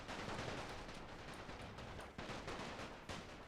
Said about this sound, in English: The artillery is still firing at whatever they can.